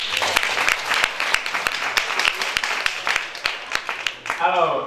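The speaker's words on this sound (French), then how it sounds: "nous pouvons applaudir pour cela." Audience in a studio setting claps in a burst of sharp, rhythmic applause lasting several seconds, followed by a voice speaking as it ends.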